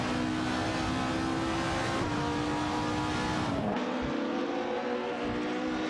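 Video game race cars, a Nissan Primera P11 and a 1998 Ford Mondeo, engines droning loud and steady at high revs with a gear shift and pitch drop near the end, no talk.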